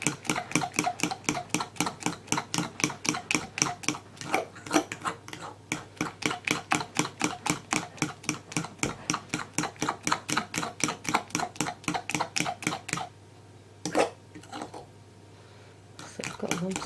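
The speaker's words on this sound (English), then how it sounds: "it's stirring it with a fork, not really whisking it" A fork stirring lumpy batter in a bowl, a fast, regular scraping clatter close up that keeps going for about thirteen seconds, pauses for a few brief strokes, then starts again, with a little quiet talk.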